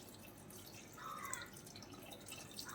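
Second coconut milk poured into a gooseberry curry, a faint, steady liquid trickle and drip running for a few seconds with no voices.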